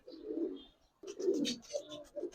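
Giribaz pigeons in a collection coo softly, two short bursts of low throaty cooing close by, faint and quiet.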